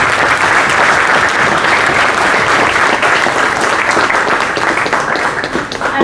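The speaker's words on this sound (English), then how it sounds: "Jaydev Rajak with a huge round of applause" A large conference audience at a consulting conclave gives loud, sustained applause welcoming a panel speaker, dense clapping filling the room for about six seconds before easing slightly at the close.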